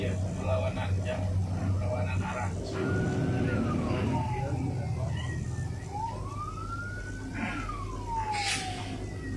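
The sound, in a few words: ambulance siren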